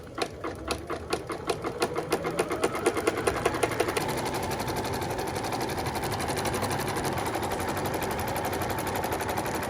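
A Janome sewing machine stitches zigzag embroidery with multicolor thread, its needle hammering in a fast rhythmic clatter that speeds up into a continuous loud mechanical whir, close by with no talking.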